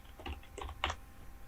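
Someone types a website address on a computer keyboard with a short run of quiet, quick key taps in two small clusters, close by and otherwise undisturbed.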